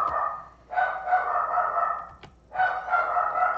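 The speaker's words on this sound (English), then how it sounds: "Sorry about my dog barking in the background." A dog barking in the background, two long howling, whining bark bursts separated by a short pause, moderately loud with no talk.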